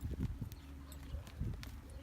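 A horse's hooves clip-clop in a steady rhythm on the ground of a barrel racing arena, moderately close, with faint background noise and no clear talking.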